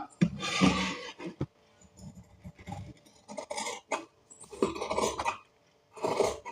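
Scissors cutting through blouse fabric on a table: a few separate bursts of crisp snipping and rustling, close by, with quiet pauses between cuts.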